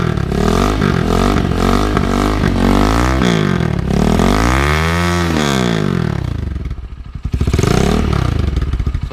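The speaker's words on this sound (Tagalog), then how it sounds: "So ito naman yung silencer na may konting bomba" A motorcycle fitted with a new aftermarket muffler and silencer revs loudly up close. The engine note swoops up and down through several throttle blips, then drops briefly before rising again.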